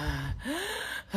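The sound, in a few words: voice imitating heavy wheezing breathing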